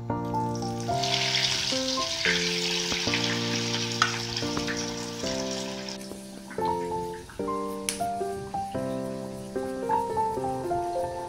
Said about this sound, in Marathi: मैद्याच्या बॅटर पेस्ट मध्ये असं बुडवून झाल्यावर आपण ब्रेड क्रम्ब लावायचे आणि हे तेलामध्ये असं सोडायचं।